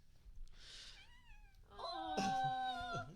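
A house cat meows twice, a brief plaintive cry and then a longer, louder wavering wail, close by with faint background noise.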